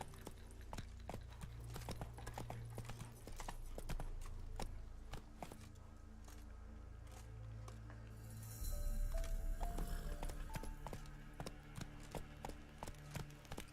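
The horse Roach gallops in The Witcher 3, a quick, steady clip-clop of hooves running under game ambience, moderately close, with a brief heavier thud and faint background noise partway through.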